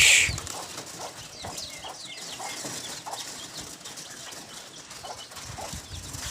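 Pigeons at a spot where a chicken was feeding flap their wings in soft, scattered bursts as they land again one by one, over a faint steady background hiss.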